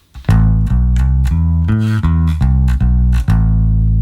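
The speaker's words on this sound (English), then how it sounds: "working on a minor blues pattern where we are using index, the annular and the pinky more than anything to play something that sounds like this" Bass guitar picking a slow minor blues pattern, each note played with the index, ring and little fingers, in a steady series of clear, sustained plucked tones played alone.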